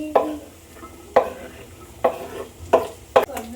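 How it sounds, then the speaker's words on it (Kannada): Vegetables tossed and stir-fried in a hot pan, with five sharp scraping stirs spaced about a second apart over a low steady sizzle, close and moderately loud. "ಬನ್ನಿ ಇವಾಗ ತರಕಾರಿ ಎಲ್ಲ ಹಾಕೋಣ"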